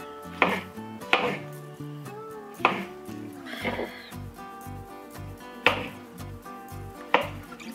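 A knife cutting a banana into pieces on a board for a homemade snack, several sharp close chops spaced about a second apart over soft background music.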